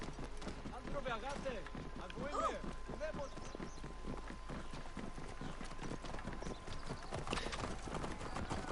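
Rhythmic hoofbeats of a camel walking in Assassin's Creed Origins, a steady clip-clop pattern running throughout with voices talking over it.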